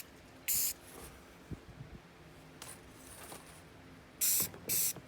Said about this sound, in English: spray your gun